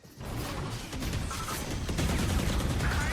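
Valorant gunfire: a dense, continuous burst of rapid shots and clattering impacts, loud and close throughout the short stretch with no talk.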